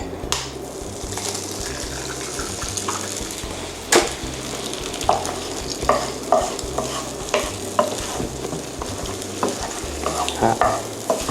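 Steady crackling sizzle of eggs frying in a pan, with repeated scraping and tapping of a utensil stirring throughout.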